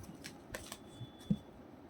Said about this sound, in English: when you close your eyes and when you shuffle the cards